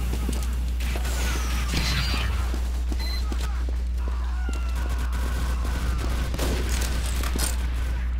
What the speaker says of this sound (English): Let's just spray random ammunition.